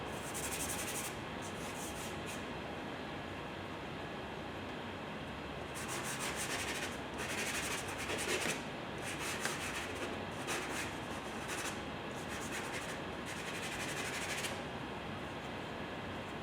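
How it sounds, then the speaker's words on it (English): An eraser rubs across a reductive drawing to lift out light areas, making soft, close scrubbing strokes that come in intermittent bursts over a constant quiet background. "If I need to pull out some light, I'll move over to my eraser."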